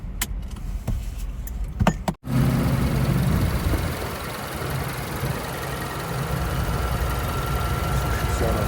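A car engine idles after a cold start, a steady low hum that follows a few clicks and a brief cutout, continuing evenly without shaking.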